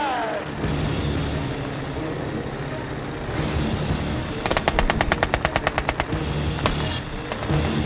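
Rapid rattling machine-gun burst from a World War I biplane in a dogfight game against a Fokker, a string of evenly spaced shots over a droning aircraft engine, with engine noise before and after.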